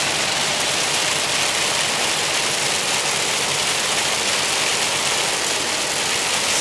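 Heavy rain pounding on a moving car while driving, a dense, loud, continuous roar of water hiss with low engine rumble beneath, no voices.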